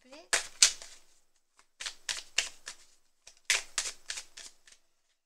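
A deck of cards is cut and handled during a card reading, giving several short papery riffling bursts in clusters with brief pauses between, close and fairly crisp.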